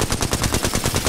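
Rapid automatic gunfire in the Apex Legends video game, a loud, tight burst of about a dozen evenly spaced shots, close and unbroken.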